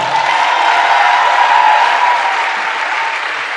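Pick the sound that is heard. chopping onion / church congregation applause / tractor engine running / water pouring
church congregation applause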